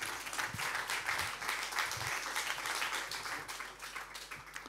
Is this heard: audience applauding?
yes